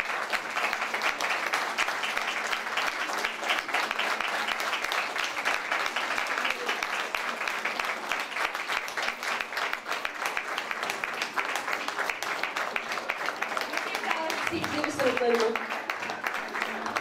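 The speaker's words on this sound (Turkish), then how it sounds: "Bence bugün çok büyük alkışlara hak ettiler" An audience applauds at a school commemoration ceremony for the Çanakkale victory and its martyrs, a dense, sustained wave of clapping from a large crowd that carries on steadily throughout.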